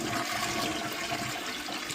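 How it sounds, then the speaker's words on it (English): A toilet flushing after a vinegar soak to dissolve iron stains in the tank, a steady, close rush of water swirling and draining for the whole two seconds with no voices. "now I'm going to flush it"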